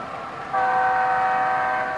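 A loud, steady multi-tone diesel horn from an HO-scale Athearn Genesis SD90MAC-H2 Union Pacific model locomotive blares after a short quiet start and holds to the end, sounding close and electronic.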